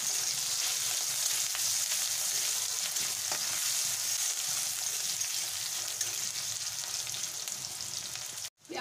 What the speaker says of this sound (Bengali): এবার পেঁয়াজটাকে আমি ভালো করে নাড়িয়ে